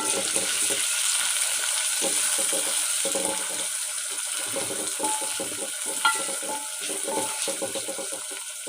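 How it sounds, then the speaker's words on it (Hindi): Tomatoes frying in a pan with garlic and ginger for a turnip, peas and fenugreek dish, a steady loud sizzle with intermittent scraping and stirring clatter throughout. "अब हम डालेंगे टमाटर, इनको भी भूनेंगे।"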